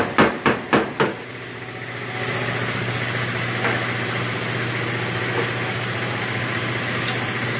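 Four sharp metallic blows ring out in quick succession on the antenna assembly of a 2003 Dodge Grand Caravan, followed by a steady background hum with a couple of faint knocks.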